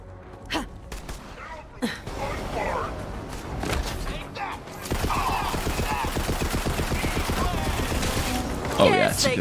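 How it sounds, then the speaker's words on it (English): SMG firing in the video game Borderlands 3: a few isolated shots early, then a sustained rapid automatic burst from about the middle onward, close and fairly loud, with talk over it. "Oh yeah, it's a good SMG."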